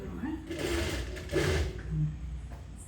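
A sewing machine stitches a kurta in short bursts of rapid mechanical whirring, close by, with a person talking over it.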